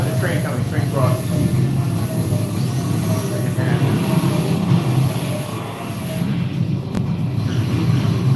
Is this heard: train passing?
yes